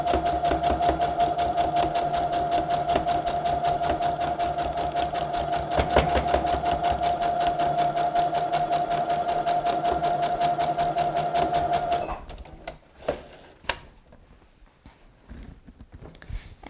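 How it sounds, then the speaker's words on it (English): A sewing machine stitches down lines in a fast, steady mechanical hum for about twelve seconds, loud and close, then stops, leaving scattered small clicks and handling noises. "Just sewing down those lines."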